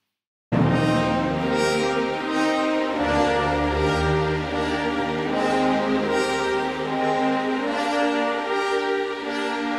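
Orchestral passage from a Sibelius symphony, the swan theme, with sustained strings and brass swelling in a slow, circling progression, full and steady throughout.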